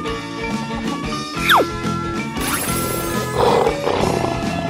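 A lion roars over a busy, layered background with music-like tones and swooping effects, the roar rising briefly in the middle and again near the end.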